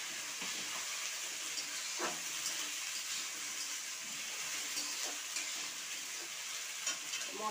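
Ground spice paste sizzles in a pan with onions fried until red, a steady close hiss with occasional scraping stir strokes and no talking.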